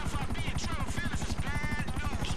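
Helicopter in GTA V producing a constant fast blade chop at close range, with talking layered over the rotor throb.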